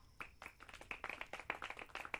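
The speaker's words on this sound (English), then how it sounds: "the band has the nerve to applaud" A band applauds in a visual novel game, a scattered round of light hand claps that is quiet and close, with no talk.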